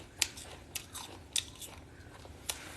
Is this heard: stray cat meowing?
no